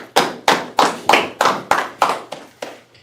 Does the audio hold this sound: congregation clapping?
yes